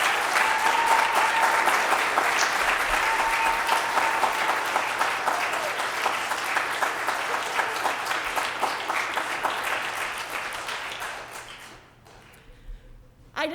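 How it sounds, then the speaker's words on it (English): An auditorium audience applauds a graduating practical nursing class at a pinning ceremony, with dense sustained clapping for about eleven seconds before it tapers off into quiet and a faint voice. "Can we give applause for December 2020?"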